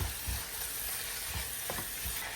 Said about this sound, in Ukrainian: Гарнесенько перемішую.